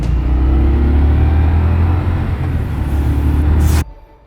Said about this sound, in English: let's fire it up and get some first impression feel of what it's like to ride